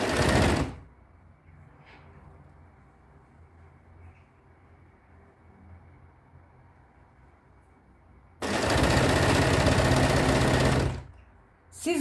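A sewing machine stitches the collar of a pajama top in two loud, steady whirring runs, a short one at the start and a longer one near the end. A quiet pause with faint room noise lies between them.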